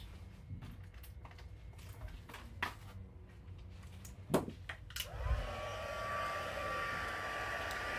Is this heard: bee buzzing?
no